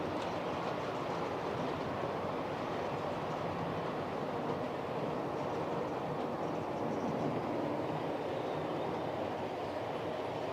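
A Hornby model train runs on a turntable fitted with an auto reverser, producing a steady, continuous mechanical rumble and whir that holds at an even level throughout, with no talking.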